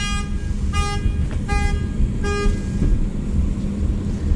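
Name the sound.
car alarm going off in police lot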